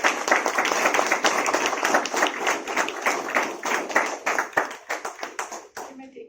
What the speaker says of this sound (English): Please give the outgoing officers a round of applause for the wonderful service of all.